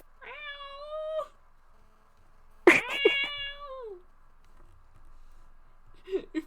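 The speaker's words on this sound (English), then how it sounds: "More indignant meowing." Two long, drawn-out indignant cat meows with an angry rising-falling pitch, close and loud, followed by a short low grumble near the end.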